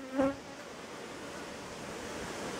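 Honeybees buzzing around hive boxes at an apiary, a brief close buzz at the start, then a faint, steady hum under outdoor ambience.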